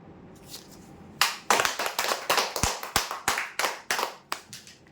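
A small crowd claps at a weekly customer prize draw, the applause starting about a second in and rolling on in loud, uneven bursts that gradually thin out toward the end.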